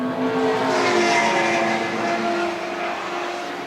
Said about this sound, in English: you've got a great little gaggle of RX-7s with various engines coming down the main straight now